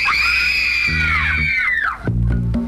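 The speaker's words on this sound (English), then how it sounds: "Let's hear a scream for the haunted house." A single long, shrill scream sound effect for a radio haunted house, loud and wavering, briefly mixed with low groaning tones before a quick second cry at the end.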